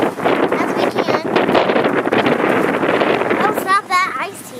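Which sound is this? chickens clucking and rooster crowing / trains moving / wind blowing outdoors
wind blowing outdoors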